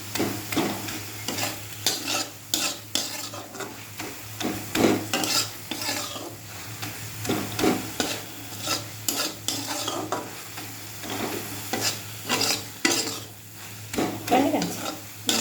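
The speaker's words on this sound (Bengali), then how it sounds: "হয়ে গেছে আমার ঢেঁকি শাক ভাজা" Dhenki greens are stir-fried with shrimp in a pan on a gas stove, giving a steady sizzle with repeated scraping strokes of a spatula against the pan in an irregular rhythm.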